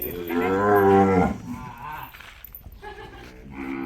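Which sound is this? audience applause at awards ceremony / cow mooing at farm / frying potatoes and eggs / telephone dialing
cow mooing at farm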